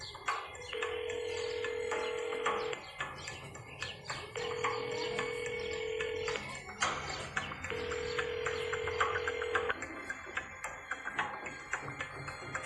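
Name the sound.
phone call ringing unanswered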